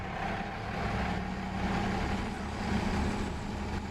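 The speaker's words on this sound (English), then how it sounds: "And listen to that turbo whistle." A heavy tractor engine with straight pipe in Farming Simulator drones steadily at close range, low and rumbling, with a thin high turbo whistle running faintly over it.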